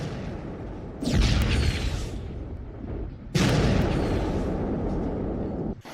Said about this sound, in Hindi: एयर स्ट्राइक, फ्लेयर्स और बम से तबाह होते हिजबुल्लाह के ठिकाने दूर से नजर आ रहे हैं।